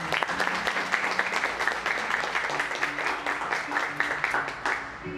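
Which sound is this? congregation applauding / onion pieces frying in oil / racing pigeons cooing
congregation applauding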